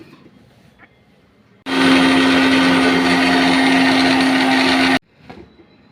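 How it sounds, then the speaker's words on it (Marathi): A kitchen mixer grinder blends paste for Mumbai-style vada pav: a loud, steady electric whir starts abruptly, runs for about three seconds and cuts off sharply, with quiet room sounds before and after. "मिक्सरमध्ये अशा पद्धतीने आपण घेतलेले ते मस्त वाटण करून घ्यायचं आहे."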